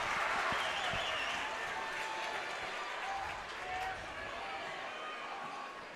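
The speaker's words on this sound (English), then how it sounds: "The energy in this crowd is incredible." A crowd at a boys' high school district basketball game, Kearney vs Lincoln North Star, cheers and applauds in a loud, sustained swell that eases off gradually, with a commentator talking over it.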